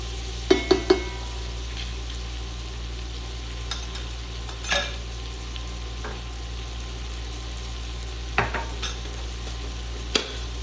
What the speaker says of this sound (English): Caramelized onions, you wanna kinda cook it slow and low a little bit.